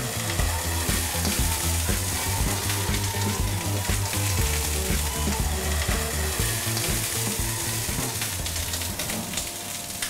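Meat finishing in a pan over gas turned down to minimum, a steady close sizzle and fry with light crackle throughout, unbroken and fairly loud.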